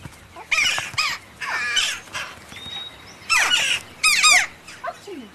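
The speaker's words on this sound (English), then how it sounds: "Jackdaws are very social members of the crow family, and Augusta von Bayern studies their behavi" Several sharp, high-pitched jackdaw calls in short bursts, some in quick clusters, over quiet outdoor background noise.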